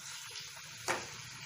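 Tomatoes frying in oil over a medium flame hiss with a steady close sizzle, with one brief louder burst as they are stirred.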